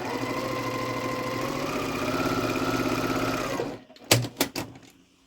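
A sewing machine stitches quilt pieces for a Halloween crow quilt in a steady, continuous mechanical whir for several seconds, then stops, followed by a few sharp handling clicks and knocks.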